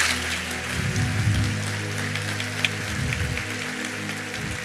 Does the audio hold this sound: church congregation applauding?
yes